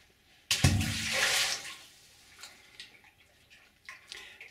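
Water in a flooded tunnel of the abandoned White Pine Mine sloshes in a sudden burst, then settles into scattered faint splashes and drips echoing in the enclosed space.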